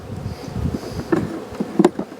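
A dense, close buzzing of many honey bees, steady and busy, with a few soft knocks and rustles mixed in while swarm cells are used to split hives.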